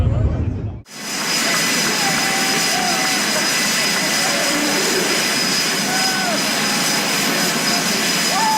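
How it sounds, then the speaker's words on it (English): Loud, steady jet roar from airplanes passing close over spectators at an air show in Australia, a sustained wash of engine noise that starts abruptly after a brief dip and holds throughout. "During Australia's air shows, planes zoom right past the viewers, getting unbelievably close."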